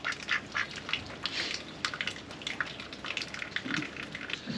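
Ducks quack repeatedly in irregular bursts while being fed wholemeal grain bread, fairly close but quiet, with faint watery dripping and no talk.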